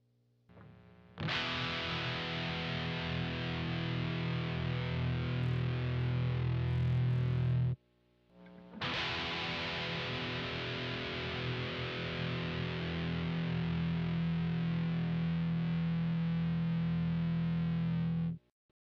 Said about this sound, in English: Here is a Les Paul Custom with active EMG pickups. Let's compare the two without changing the settings on the amps.